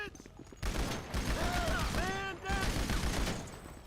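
Gunfire in GTA Online shot from behind cover while peeking a corner, a dense run of rapid shots with booming impacts, loud and close, under a voice talking over the action.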